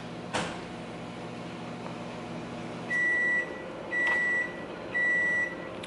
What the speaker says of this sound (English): Just microwave it, it's hot.